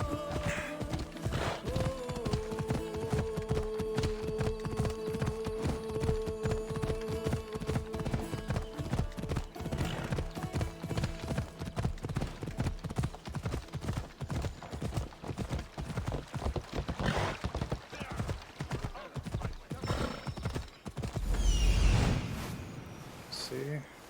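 Horse hooves clip-clop in Assassin's Creed Odyssey, a steady walking rhythm of many close hoof strikes running throughout, with talk over the top and a brief heavier thump near the end.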